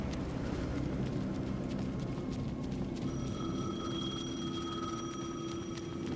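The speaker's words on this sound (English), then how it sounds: "The phone again." An old telephone bell ringing in the game Alan Wake 2, its high rattling tone starting partway through and continuing over a steady, dense low background hum.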